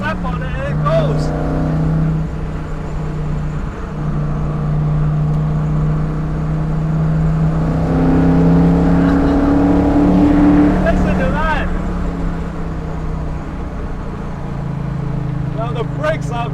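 A 1996 AC Cobra MkIV engine revs and pulls hard, its pitch climbing through the gears with a loud, close drone.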